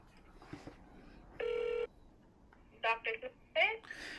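A phone dial tone beeps once, followed by a quick series of keypad tones, with faint speech in the background.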